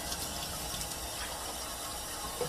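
Water pours steadily into a cooking pot, about two and a half cups measured for brown rice, a continuous close splashing rush without pauses.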